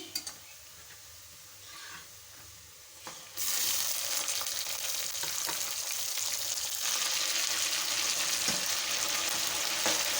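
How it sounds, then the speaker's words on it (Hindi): Meat frying in a pot with golden-browned onions and whole garam masala, a loud steady sizzle bursting in after a quieter start and continuing without talk. "गोश्त को भी हम इसमें फ्राई करेंगे"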